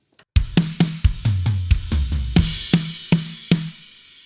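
A drum triplet fill of quick, punchy snare strokes mixed with crash cymbal hits plays in a steady run of about a dozen close, loud strikes, with a ringing cymbal wash that fades out at the end.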